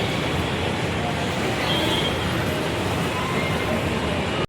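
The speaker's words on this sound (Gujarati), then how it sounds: "આ રેલવે સ્ટેશન છે" Dense, continuous crowd hubbub with rumbling rail and traffic noise at Kalupur railway station, many voices blending together, fairly loud and unbroken.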